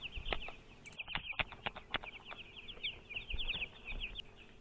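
Broiler chickens in a farm shed clucking and cheeping in frequent short bursts, several birds overlapping at moderate distance against quiet background noise, no talk.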